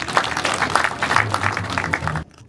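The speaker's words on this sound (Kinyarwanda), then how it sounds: "Bamfasha tukabakomera amashyi." An audience applauds at a public event honouring guests at a trade fair, a dense and steady wash of many hands clapping close by for about two seconds before it cuts off abruptly.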